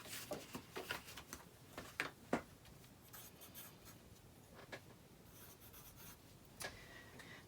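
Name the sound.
pencil drawing on pattern paper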